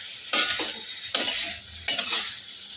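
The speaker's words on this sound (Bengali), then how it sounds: "এবার ভালো করে নেড়ে চেড়ে নেব" Prawn chorchori with winter vegetables, cooked without water, being stirred in a pan: three bursts of scraping and shuffling over a soft sizzle, close up with pauses between strokes and no talking.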